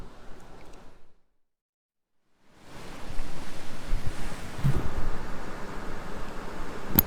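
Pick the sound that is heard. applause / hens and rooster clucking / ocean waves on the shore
ocean waves on the shore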